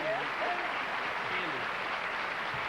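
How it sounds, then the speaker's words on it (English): Studio audience applause on a 1980 Tic Tac Dough game show taping, a continuous bed of clapping heard at moderate distance with a host's voice talking over it. "let's have another nice round of applause for Cindy"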